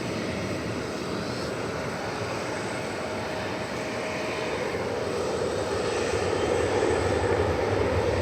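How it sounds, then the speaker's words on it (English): A UPS Boeing 757 arriving at Dallas Fort Worth airport gives a continuous broad engine rumble and whine, steady at first and swelling slightly louder toward the end. "A 757 arriving from Fort Lauderdale in Florida."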